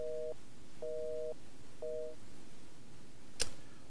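A telephone busy signal in Resident Evil 8 sounds as three evenly spaced beeps, quiet and steady, followed by a single sharp click near the end, no talking.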